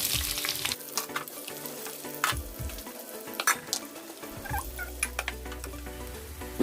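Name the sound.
chopped onion frying in oil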